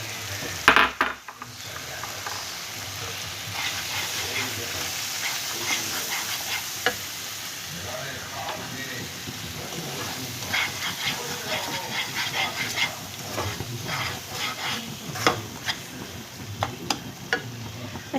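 Ground spice paste dropped into spinach dal frying in a pan, a steady sizzling hiss with scraping stirs and occasional clinks of a utensil against the pot, a sharp knock near the start.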